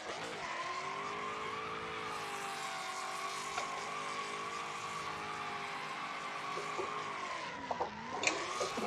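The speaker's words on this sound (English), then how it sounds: "Let's see if this will do fourth gear burnout" A car in BeamNG Drive, fitted with rear wheels set up for burnouts, roars in a sustained fourth-gear burnout, the engine droning steadily at high revs with rising and falling pitch and a brief dip and surge near the end.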